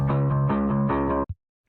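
A bass guitar played through a BIAS FX 2 Blue Line V2 amp simulation with the stock cab and a virtual SM57, holding a sustained, slightly driven tone with a few note changes, then cutting off with a brief final pluck.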